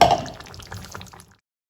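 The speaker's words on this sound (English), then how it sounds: "at this point I will add the leftover water from the mixer jar." Leftover water from a mixer jar is poured into a pot of Goan green beef curry with potatoes, a short close splash and trickle that fades out within about a second and a half.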